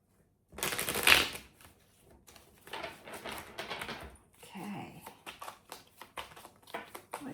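A burst of tarot cards riffled close by, followed by repeated softer shuffling and flicking sounds in quick uneven bursts, with no talking.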